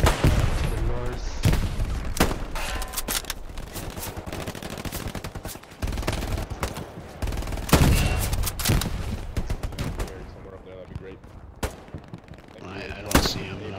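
Rapid gunfire in Hell Let Loose, a World War II battle set in the Hürtgen Forest: dense bursts of rifle and machine-gun shots crackle loud and close, some spaced single cracks, with distant booms and players talking over the shooting.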